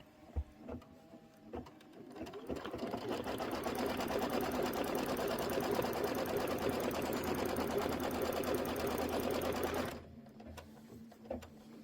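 Embroidery machine stitching a tack-down line on a quilt block, a fast rapid-fire mechanical chatter that runs steadily for about eight seconds after a few scattered clicks, then stops and leaves light handling noises.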